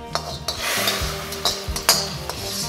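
Garlic tempering, fried until lightly red, hisses and sizzles steadily as it is poured into a pot of rasam, with a few sharp utensil clinks over the continuous frying noise.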